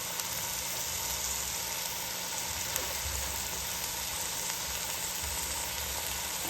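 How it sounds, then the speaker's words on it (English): Ground beef sizzles in a big pot on top of already browned onions, a steady, moderate frying hiss with a low hum underneath, close and unbroken, with no talk. "I'm going to just add the ground beef right on top of that"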